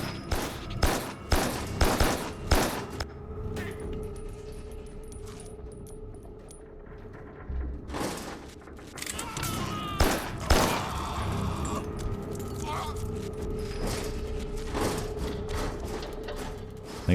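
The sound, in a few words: gunfire from armed humans in the video game Carrion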